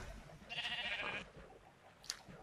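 A sheep in the Minecraft video game bleats once in a short, wavering call, with faint game ambience around it and a small click near the end.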